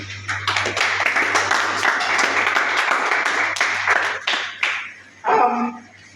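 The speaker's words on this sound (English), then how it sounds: "let's give ourselves a round of applause" Workshop participants at a chess academy clap together in a sustained burst of applause, mixed with scattered voices and a low steady hum, fading out near the end.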